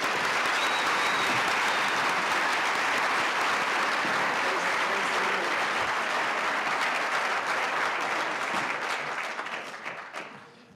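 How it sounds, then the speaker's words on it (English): An audience at a Salt Lake City oath of office ceremony gives the performers a full, sustained round of applause that stays dense and even before tapering away at the end. "let's give all the performers one more round of applause"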